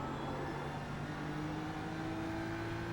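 A BMW M4 EVO GT3 race car in the iRacing sim at Circuit de Catalunya, Barcelona, accelerating back onto the throttle over the curbing. Its engine gives a steady, continuous drone and whine, close and unbroken, with no talking.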